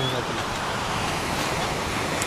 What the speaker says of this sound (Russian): Море тут с волнами